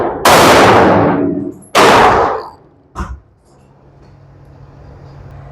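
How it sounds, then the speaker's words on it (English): A CZ Scorpion EVO 3 9mm fires at an outdoor range: two loud, sharp close shots about 1.5 seconds apart, each with a long ringing decay, followed by a fainter metallic clack and low background hum. "Let's start out running some rounds with the Scorpion."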